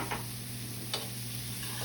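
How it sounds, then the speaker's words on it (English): Mushrooms, garlic and shallot sautéing in a pan with a steady, even sizzle and a couple of soft stirring scrapes, close and continuous with no talking. "you want to let those mushrooms saute for a few moments"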